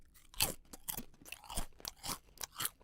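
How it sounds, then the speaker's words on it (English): Close crunching and chewing of a snack near a microphone, a series of crisp bites and munches at an irregular rhythm, fairly quiet with no talking. "You guys can hear me crunching."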